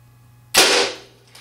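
Arrow with a Muzzy MX3 broadhead, fired from a 60 lb PSE Evo compound bow, strikes a target in a single sharp, loud smack that fades quickly.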